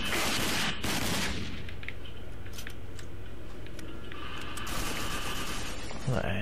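Enemy gunfire in the RAGE shooter game: dense, continuous bursts of rapid shots and impacts crackle for the whole stretch, loud and close, with a sharp burst near the end.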